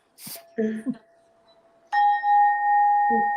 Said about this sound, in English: It's my Burma bells.